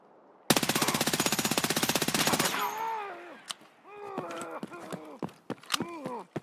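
A video game gun fires a fast, even automatic burst lasting about two seconds, followed by scattered single shots and clattering effects, loud and close, with no talk over the firing.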